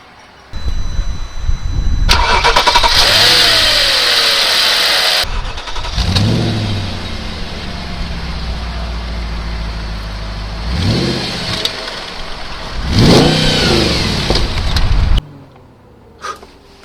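A 2007 Audi RS4 B7 with a V8 and exhaust flaps open starts up loudly, then revs hard several times in sharp rising bursts between settling idles, close and dominant throughout.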